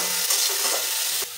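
Chopped onion, ginger and garlic frying in oil in a wok, a steady bright sizzle with a faint scrape of stirring, close and continuous, no voices.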